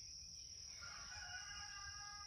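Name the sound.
rooster crowing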